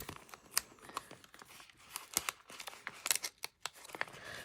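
Scissors snip through the paper of a mail envelope in a run of quick, crisp cuts with small rustles between them, close and fairly quiet.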